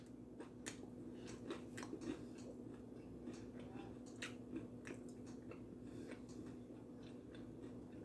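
Crunchy southern fried tilapia is bitten and chewed close to the mic, giving a series of crisp crackling crunches over a steady low hum and faint room noise.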